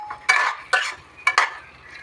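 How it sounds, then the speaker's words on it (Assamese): A spoon stirs paneer in melted butter in a pan, giving a few short scraping, sizzling strokes in an uneven rhythm, close and fairly soft. "পনীৰখিনি অকণমান লৰাই দিব।"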